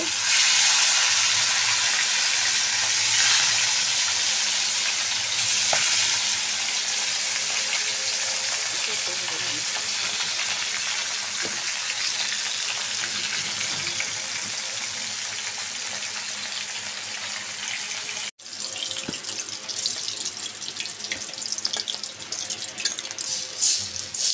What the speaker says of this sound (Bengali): কই মাছগুলো আমি একটু ভেজে নিব।